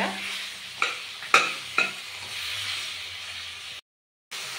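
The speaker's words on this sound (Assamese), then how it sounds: "ইফালে এয়া মাছৰ মূৰখিনি ধুনীয়াকৈ ভাঙি ভাজি দিয়া হৈছে" Broken fish heads fry in hot oil for fish curry, a soft sizzle punctuated by three sharp scraping stirs of a utensil, then a brief silence near the end.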